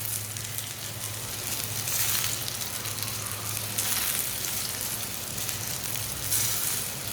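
A paratha sizzles on a hot pan as it is turned while cooking, a soft, steady frying hiss at moderate distance with gentle swells and a low hum beneath.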